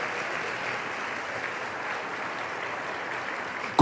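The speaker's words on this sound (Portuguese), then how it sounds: "Pode aplaudir, pode aplaudir, pode aplaudir" A church congregation claps in steady, even applause that sounds moderately distant and fills the space without any voices over it.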